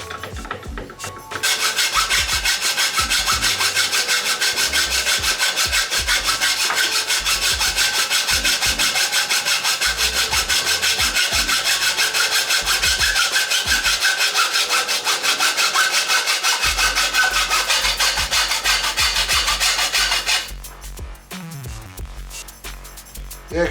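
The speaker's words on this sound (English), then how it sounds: "I'm gonna try using it with the manual hacksaw there" A manual hacksaw cutting through an intake pipe clamped in a vise for a Honda Civic, a long run of steady back-and-forth rasping strokes, close and loud, with quieter handling noises before and after.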